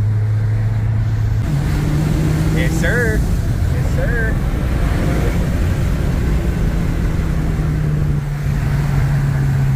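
A 2015 Subaru WRX on new coilovers drives along with a steady, loud engine drone and road noise throughout, its pitch stepping up once early on; someone speaks briefly over it.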